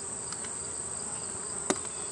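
A steady, high buzz of honeybees inside an open hive fills the air without pause, close and even, with a single sharp tap near the end.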